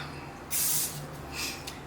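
Two short hissing bursts from a can of cooking spray onto a baking pan, the first longer and louder, the second briefer, close by in a quiet room.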